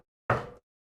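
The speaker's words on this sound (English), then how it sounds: "I reach Sayori's house and knock on the door." A single dull knock on a door in the Doki Doki Literature Club video game, one short solid thud in otherwise silence.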